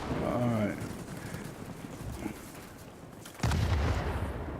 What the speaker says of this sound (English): I got destroyed by AA guns.